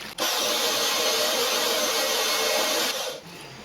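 A homemade lathe spins while a machined part is polished, giving a steady, close motor whine with a faint hiss of abrasive contact for about three seconds before it winds down.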